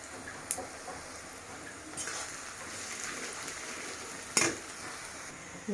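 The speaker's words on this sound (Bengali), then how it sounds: "সেই জন্য তেলের চুলা কিনে নিয়ে আসছি। এটা দিয়ে এখন আমি রান্না করছি।" Food cooks on a kerosene oil stove, giving a faint, continuous frying hiss with a few sharp clicks and taps of utensils, heard without speech.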